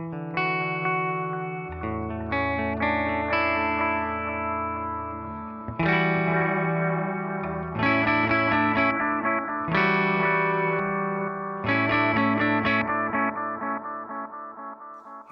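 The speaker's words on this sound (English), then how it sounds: "now you have an analog sounding delay" Guitar through a Source Audio Encounter pedal set to an analog-style delay with high feedback and the modulation rate turned all the way down, playing steady chords and notes whose repeats pile up and smear into a continuous, full wash.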